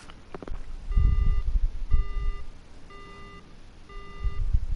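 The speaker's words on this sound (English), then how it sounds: "The phone goes dead." Phone line going dead in the horror game Death Mark: four evenly spaced electronic beep tones sound over low thumping noises.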